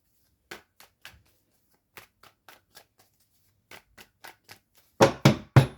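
Tarot cards shuffled by hand in short riffling bursts separated by pauses, close and crisp, ending in three louder, fuller shuffles with no talking.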